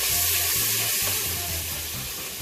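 Masala for a vegetarian matar biryani sizzles loudly in a pan just after a splash of water is added, a steady close frying hiss with faint stirring underneath.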